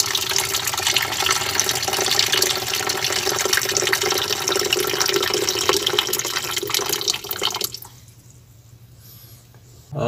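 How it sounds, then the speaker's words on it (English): Water is decanted from a beaker while washing gold recovered from hard drive connector pins, a steady, loud, close pour lasting several seconds that stops abruptly, leaving near silence. "Decant water, second washing."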